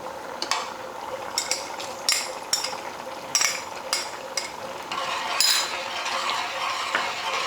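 Fried dry fruits are tipped into sweet poha payasa made with jaggery and stirred, giving a series of close, light clinks and scrapes of a spoon against the pot with a soft simmering hiss beneath.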